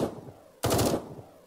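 Gunfire in the video game Eden Star, a sudden loud burst of rapid shots that fades quickly after a quieter lead-in.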